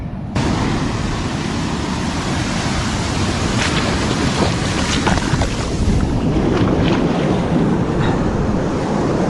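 Ocean waves on a shore surge and wash in a loud, continuous roar, with buffeting wind noise across the microphone and a few sharper breaking bursts midway.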